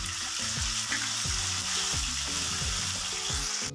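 Garlic paste sizzles and crackles steadily in oil in a pan while being stirred, with repeated scraping strokes and no talking.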